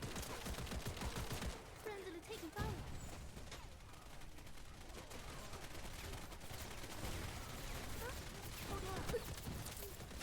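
Dense gunfire from the video game Wild Assault, bursts of shots and rattling volleys running throughout at a fairly low level, mixed with game effects and brief voice callouts.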